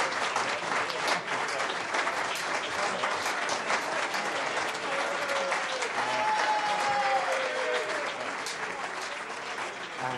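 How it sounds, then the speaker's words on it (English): Thick, sustained applause fills a hall for Menzies Campbell's acceptance speech as the new Liberal Democrat leader. It is loud and continuous throughout, with brief cheering in places. "Applause there for Menzies Campbell as he makes his acceptance speech as the new leader of the Liberal Democrats"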